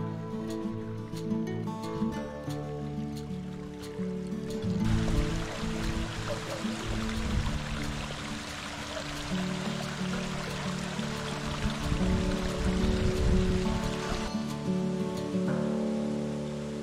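Spring water gushes and froths down a mountain stream in dense forest, a continuous rushing wash that swells louder midway and stays close and steady, with no voices.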